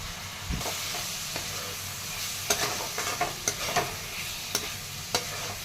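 Onion frying in a pan while being stirred, a steady sizzle under repeated scraping taps of a spoon against the pan, close and moderately loud, with no talking.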